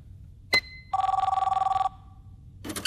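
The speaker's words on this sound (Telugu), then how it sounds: "అది ఫోన్ కాదు ఫ్యాక్స్" An office fax machine rings with a steady, rapid electronic trill lasting about a second, after a brief sharp click; a louder burst of noise follows at the end.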